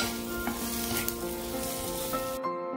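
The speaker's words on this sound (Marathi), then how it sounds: "कांदा भाजताना आपल्याला त्यामध्ये थोडंसं तेल घालायचं आणि कांदा भाजून घ्यायचा" A steady, dense sizzle of onion frying in a little oil, continuous close crackling with faint stirring taps, cutting off abruptly at the end.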